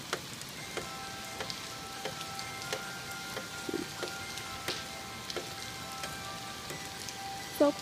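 Rain falling outdoors in a storm: faint, soft, even patter with scattered individual drips and occasional louder drops.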